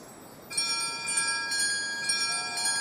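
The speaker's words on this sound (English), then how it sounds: "There we go, ring the bell." A bell struck once in the game Mistfall Hunter, a bright metallic ring that sets in sharply and then hangs as a sustained shimmering tone, clear and alone.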